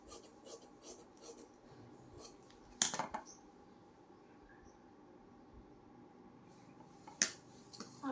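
Scissors cut through cloth for a blouse sleeve, a quiet, soft rasping snip sound with a couple of sharper clicks, fairly faint and close.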